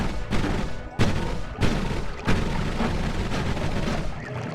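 A magic wand firing with heavy recoil in the video game Noita, a few loud booming blasts spaced about a second apart over a continuous rumbling, crackling barrage.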